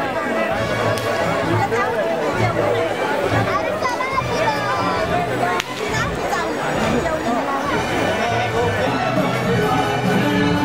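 A dense crowd at the Tembhi Naka Devi fair in Thane, a steady babble of many voices and chatter close by, continuous throughout with a brief dip midway.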